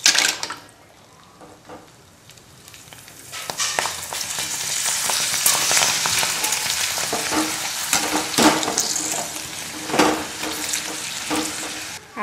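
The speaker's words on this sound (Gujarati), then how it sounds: "આ જ રીતે આપણે બધા જ ભૂંગળા તળીને તૈયાર કરીએ." Bhungara snack pellets fry in hot oil with a loud, steady sizzle and crackle, close by, broken by occasional clinks and stirring scrapes of a utensil against the pan.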